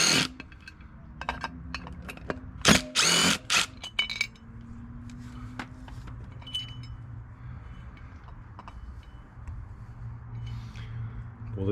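Metal clinks and taps of tools working on the clutch of a Segway Villain, a few sharp bright knocks early on, then quieter scattered clicks over a low steady hum.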